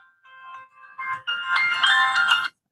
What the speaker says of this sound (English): There's a phone call coming through.